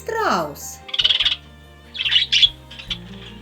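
A parrot gives a rising, squawky call, followed by several sharp, bright chirps and tweets in short bursts, separated by brief pauses, clear and fairly close.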